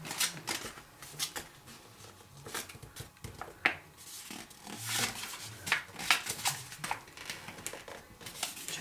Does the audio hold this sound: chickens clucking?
no